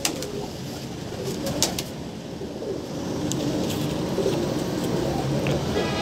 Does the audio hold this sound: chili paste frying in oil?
no